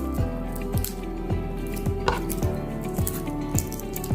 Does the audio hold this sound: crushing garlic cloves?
yes